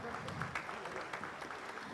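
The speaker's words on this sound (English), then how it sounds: "Please have a big round of applause" Faint clapping from a crowd at a professional accountants' conference, a brief steady patter of many hands heard from a distance.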